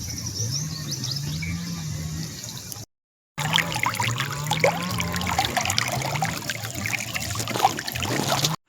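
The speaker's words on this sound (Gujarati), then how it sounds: "અત્યારે આપણે પાણી વાળી રહ્યા છીએ લીંબુડાની અંદર" Irrigation water flows steadily among lemon trees on a Gujarat farm, a continuous pouring trickle with a short break partway through and faint birds in the background.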